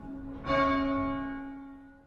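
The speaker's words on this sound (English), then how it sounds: "the bell tower atop Federal Hill tolls" A church tower bell on Federal Hill sounds a single clear, resonant strike that hums and slowly fades, faint and distant.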